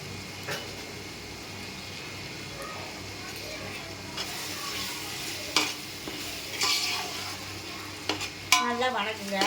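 Garlic and ginger, added for chicken biryani, stir-fry in a pan with a steady sizzle. A utensil scrapes and clatters now and then, and a voice talks over the cooking.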